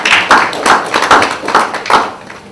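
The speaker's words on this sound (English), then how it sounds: "So clap for yourself for coming." A small conference audience claps in a loose, uneven rhythm, five or six distinct bursts of hands close by, loud and brief, with no talking over them.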